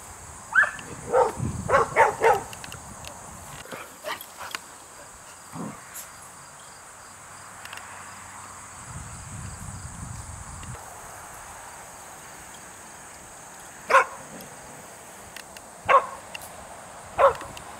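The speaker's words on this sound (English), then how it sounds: "dog distraction." A dog barks at a disc golf course in Roan Mountain, Tennessee: short, sharp barks in scattered bursts at a moderate distance over steady outdoor cricket chirping, with no speech.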